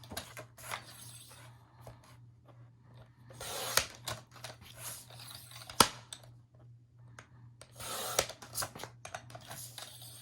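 Scissors snip and trim paper journaling elements for a holiday album, giving irregular close crisp cuts and rustles over a steady low hum, with no talking.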